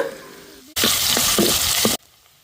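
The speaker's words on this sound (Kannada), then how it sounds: "ಎಣ್ಣೆ ಬೆಚ್ಚಾನಗೆ ಯಾನೆಕ್ ಬೆಳ್ಳುಳ್ಳಿ ಗುದುರಿತಿನ ಪಾಡೊಂಡೆ" Crushed garlic hits hot oil while cooking Mangalore-style clam sukka, setting off a sudden loud sizzle that lasts just over a second with a few stirring clinks, then cuts back to a quieter background.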